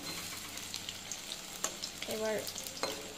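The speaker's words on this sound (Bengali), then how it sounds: "দেখো একটা পিঠ ভাজা হয়ে গেছে, তাই আমি এটাকে উল্টিয়ে দিলাম।" Banana flower fritters fry quietly in a pan of oil, a soft low sizzle with a brief clatter as one is flipped over, faint and close.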